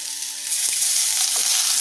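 Garlic cloves sizzling hard in hot oil in a pan during home cooking, a loud, bright, continuous frying hiss with a few soft stirring knocks and a faint steady hum underneath, no talk.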